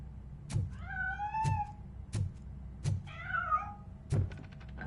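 A cat in the video game RoboCop Rogue City meows several times in drawn-out, wavering cries, interleaved with sharp mechanical thunks and clicks at a steady pace.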